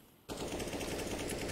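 FAMAS rifles in a Counter-Strike match rattle off in a sustained, loud automatic burst that starts abruptly after a brief quiet moment and keeps up steadily.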